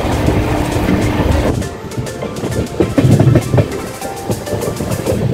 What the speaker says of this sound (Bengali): আমাদের ট্রেন এবার প্রবেশ করছে বাঁকুড়া স্টেশনে।